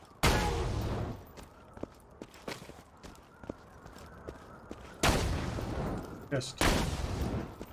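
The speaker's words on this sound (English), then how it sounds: "Trying out all these new guns." Gunfire from newly acquired guns in Borderlands 2, loud bursts of shots at the start and again near the end with scattered single pops and footsteps between, under brief talk.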